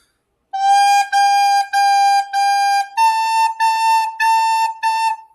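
Recorder plays four clear detached notes on G, then four slightly higher notes on A, each held about half a second in a steady even rhythm, close and loud with no talking.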